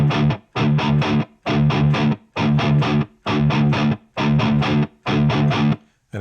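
Distorted electric guitar chugs an industrial 16th-note gallop, loud and close, in seven tight bursts of rapid palm-muted strikes separated by short, clean gaps, with no voice over it.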